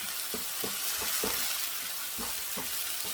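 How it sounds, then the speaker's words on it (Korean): Aged kimchi, green onion and onion are stir-fried in a pan, a constant close sizzle with a regular rhythm of spatula scrapes and tosses, no talking. "볶아줘야 돼."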